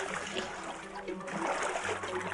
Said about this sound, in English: Swish the water about a bit.